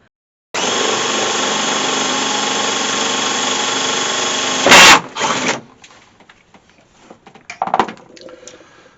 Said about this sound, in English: drill a couple of holes just to put it in place